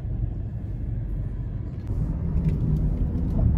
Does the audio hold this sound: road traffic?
yes